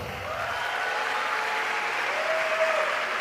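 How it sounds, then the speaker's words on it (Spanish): An audience at a Bogotá event with Donna Haraway applauds for the city, a steady, dense wash of clapping from many hands that holds evenly for about three seconds. "Un aplauso para Bogotá, por favor"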